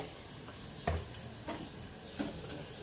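Ginger paste fries in a hot pan and is stirred, giving a low steady sizzle broken by three soft spoon scrapes against the metal.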